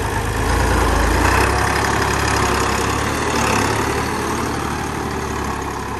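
A tractor engine runs steadily while ploughing a field for wheat sowing, giving a loud, continuous low drone close by that barely changes in level throughout.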